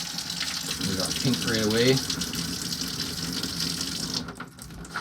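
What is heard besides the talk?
bathtub faucet running water while winterizing an RV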